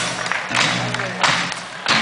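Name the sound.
audience stamping feet loudly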